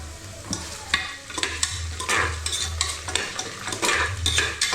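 Onions fry in oil for a mutton curry while a utensil stirs them, making a steady sizzle punctuated by repeated rhythmic scrapes and taps against the pan, close and clear, without talking.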